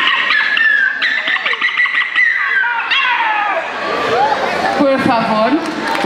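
At an anime fan festival, a person's voice imitates a dog with yipping, whimpering barks over a noisy crowd, loud and close, followed by talk.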